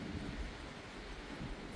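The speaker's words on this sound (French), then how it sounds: "C'est absurde ce vent." Strong wind during storm Floriane, a steady, faint broadband roar with low rumble and no distinct gusts, and no voices.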